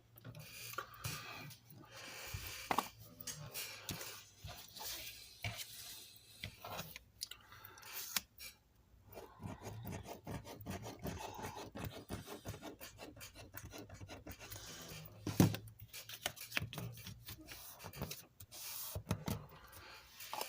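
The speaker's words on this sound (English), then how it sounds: "Gonna take this smaller scraper and just burnish everything down real well." A small scraper burnishes paper down on a handmade mini album, a close, quiet rasping scrape in short irregular strokes with occasional louder ticks.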